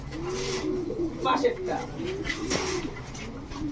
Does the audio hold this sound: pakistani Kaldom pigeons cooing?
yes